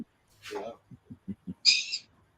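Pet bird giving a falling, owl-like call followed by a short run of soft hoots and then a brief, sharp high squawk, close and clear against a quiet room.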